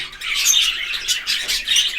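A budgerigar chirps in a run of quick, bright, scratchy calls, close and fairly loud, with short pauses between bursts and no other sounds.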